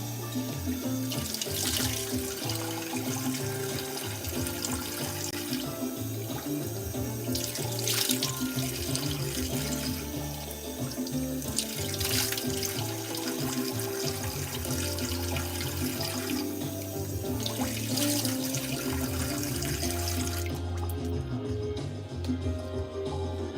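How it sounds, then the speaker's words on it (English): Cold tap water runs steadily into a bathroom sink while someone washes their face, a continuous close splashing flow with periodic surges as hands scoop and rinse, lasting nearly the whole stretch before cutting off near the end. "So I like to wash my face with really cold water because that like tightens my skin."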